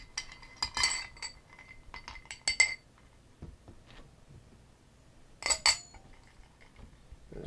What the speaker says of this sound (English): just stir it up. Get about 20 or so stirs,